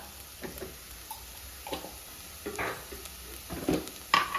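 Kerala-style kalmas masala stirred in a pan, quiet scrapes and taps of a spoon at irregular intervals over a low background sizzle, ending in a brief sharper clink.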